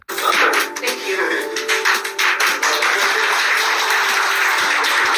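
Courtroom audience breaks into sustained clapping, a dense continuous patter of many hands that stays loud throughout with no voices standing out.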